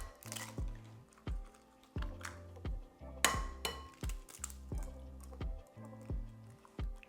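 Two large eggs go into cornbread batter in a bowl, heard as quiet, close shell clinks followed by soft wet drips and squishes that repeat in a loose rhythm.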